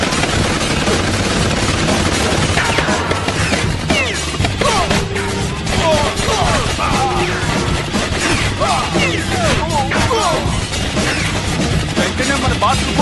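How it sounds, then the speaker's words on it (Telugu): Gunfire in a Hindi action film scene, dense bursts of sharp cracks and crashes running almost without pause at loud, steady level, with shouting mixed in. "అది ఇష్టం వచ్చినట్టు కాలుస్తున్నాడండి"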